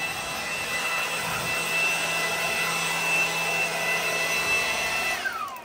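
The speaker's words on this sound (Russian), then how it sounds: "Аппарат. Воздуходувка." A Milwaukee cordless leaf blower runs on its low setting with a steady whooshing roar and a faint high whine, holding constant throughout before easing off at the end.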